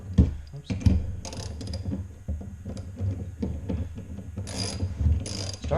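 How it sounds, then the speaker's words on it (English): A ratchet wrench tightens lug nuts on wheel spacers fitted to a second-generation Toyota Tacoma, producing bursts of rapid metallic clicking with short pauses between strokes, close up and without speech. "And you just want to continue to tighten until until it's drawn up tight and even with the other ones."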